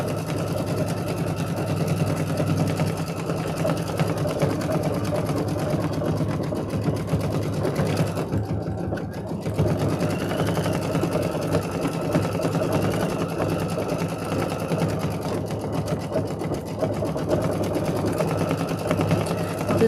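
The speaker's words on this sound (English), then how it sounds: "I can tell by the way it's running. This must be a, little intricate one." A sewing machine hums steadily while stitching a decorative stitch on a quilt, a continuous close mechanical whir with rapid needle rhythm that pauses briefly midway before resuming.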